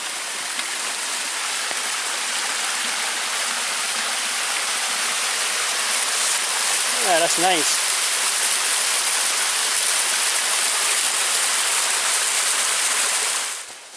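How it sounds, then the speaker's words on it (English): A little stream and waterfall under a trail bridge at Pictured Rocks, Michigan, in December, a loud, constant rushing wash of falling water close by, with a brief voice speaking partway through. "this is a bridge that crosses that little stream where this waterfall is."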